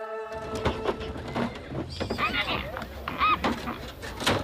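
Przewalski's horses whinny several times in shrill, quavering bursts, some overlapping, with faint hoof thuds and a steady outdoor rumble beneath, on dry grassland in the Kalamaili reserve, China.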